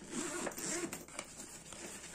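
The zipper on a small pocket of a new bag slides open, a close, raspy run of zipping lasting about two seconds, with no talk over it.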